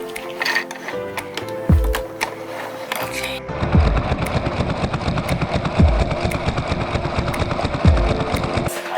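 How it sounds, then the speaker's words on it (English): A sewing machine stitches a seam in a boat's canvas enclosure. After a few quieter seconds with a couple of low thumps, it breaks into a steady, rapid, close-up mechanical chatter that runs to the end. "So here we go, sewing up our enclosure."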